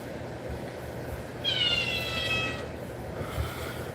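A house cat gives a single drawn-out meow near the middle, fairly clear over a steady low background rumble.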